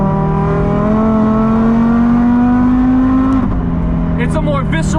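Audi RS3 fitted with solid billet engine mounts, its exhaust droning loudly and steadily while driving, pitch rising slowly under load before dropping off as the throttle lifts near the end.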